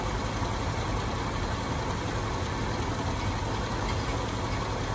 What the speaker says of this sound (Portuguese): motor super suave